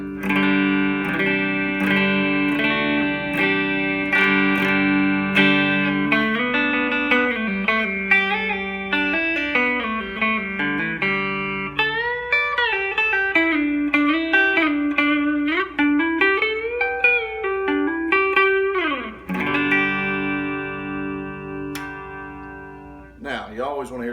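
A distorted electric guitar, a 2015 Gibson Les Paul Traditional, plays through an amp, sustained chords and bending lead notes ringing loudly for the whole stretch, no speech.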